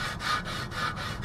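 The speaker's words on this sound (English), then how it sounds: "I'm gonna hit it with a little bit of sandpaper or some Scotch-Brite." Scotch-Brite pad scrubs curb rash on an RPF1 wheel in quick back-and-forth strokes, a close, steady rasping rhythm of about four strokes in just over a second.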